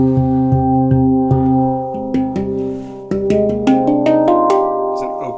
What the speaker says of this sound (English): A really good example of a wide open instrument, sonido de mano handpans are very open.